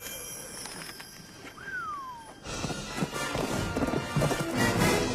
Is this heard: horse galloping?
yes